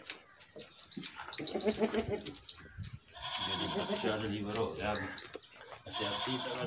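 A large goat bleats repeatedly during the delivery of a kid on a farm, close and loud, mixed with people talking nearby.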